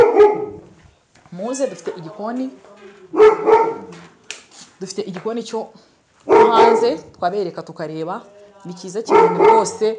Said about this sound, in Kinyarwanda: umva dufite n'imbwa nose dufite imbwa